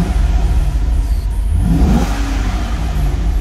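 A brand-new, nearly unused car's engine revs with a deep growl, loud and steady, swelling into a rising pitch midway through the rev.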